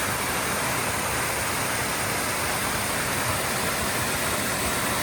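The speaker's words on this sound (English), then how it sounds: "A little waterfall." A small waterfall at a trail crossing near Franklin, North Carolina pours in a steady, dense rush of water, loud and unbroken throughout, with no voices.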